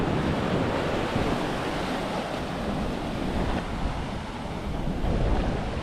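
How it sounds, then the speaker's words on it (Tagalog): Ocean waves wash steadily onto the shore with a constant roar, mixed with gusty wind buffeting the microphone; no voices. "Alon."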